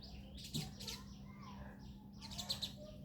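Black-hooded orioles squabbling with sparrows at a sparrow nest, faint scattered chirps and sharp tweets in short bursts over a low steady hum, with a voice speaking quietly underneath.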